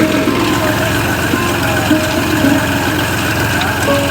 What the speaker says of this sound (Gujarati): વાવેતર કરવા ટ્રેક્ટર